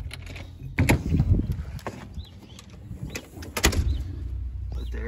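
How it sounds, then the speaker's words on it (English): A door being unlocked and opened indoors, with a few metallic clicks and thumps of the lock and handle, then light rustling and shuffling nearby. "gotta unlock the door here."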